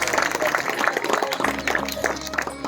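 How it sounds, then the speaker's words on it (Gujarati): Applause from an audience welcomes a guest at the inauguration ceremony of an annual NSS camp, a dense, steady patter of many hands clapping throughout the room, mixed with some crowd noise. "જોરદાર તાળીઓના ગણગણથી વધાવીએ."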